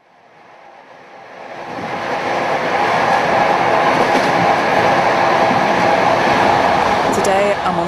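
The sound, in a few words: train travelling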